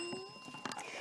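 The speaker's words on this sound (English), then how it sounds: "that bell signifies the end of section 1" A bell on a televised primary school quiz show signals the end of a section: a brief, faint ringing tone with a few light metallic strikes over quiet studio background.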